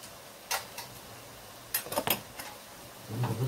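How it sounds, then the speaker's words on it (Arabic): Rice stirred in a metal pot gives a few sparse, close clinks and scrapes of a spoon against the pot, with quiet gaps between them. "نقلب الرز"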